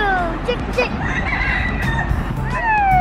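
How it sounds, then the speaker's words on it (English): A rooster crows loudly and close by over a busy, noisy background at Knott's Berry Farm amusement park, with other fowl calling around it. "our roosters and chickens"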